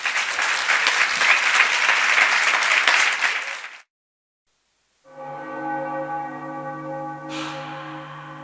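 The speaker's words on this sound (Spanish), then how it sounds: "Un fuerte aplauso para todos ellos." Applause from the audience in the Antonio Rivera auditorium during a live radio stage event: about four seconds of dense, steady clapping that cuts off into silence, followed by sustained chime-like ringing tones.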